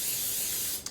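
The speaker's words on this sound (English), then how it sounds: "apply some non-stick spray, which is made of coconut oil in this particular case" A can of coconut-oil non-stick cooking spray hisses in one steady burst of under a second, close and fairly quiet, stopping with a small click.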